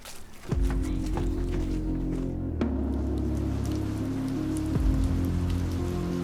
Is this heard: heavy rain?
yes